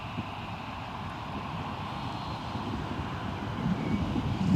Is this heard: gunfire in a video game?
no